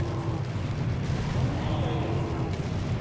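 Cannon fire in the Serious Sam HD: The First Encounter video game, a dense, continuous low rumble of booming blasts running under a voice throughout.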